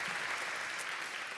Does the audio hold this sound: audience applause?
yes